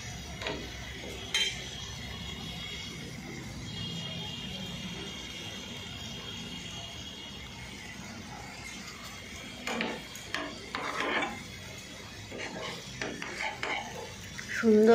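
Chicken leg pieces are turned over in sauce in a pan, giving soft scraping stir sounds and faint sizzle with a few clinks of a utensil against the pan, growing busier toward the end.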